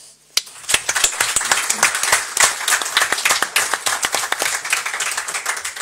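Applause for students at a Frosinone Calcio press conference, a dense burst of hand clapping from a seated audience that starts abruptly, stays loud and steady, then begins to thin out.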